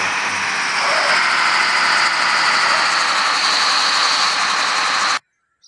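A bus engine in an offroad driving game for Android drones with a steady, loud hum and a rough, buzzing vibration. It runs unchanged for about five seconds, then cuts off abruptly into silence.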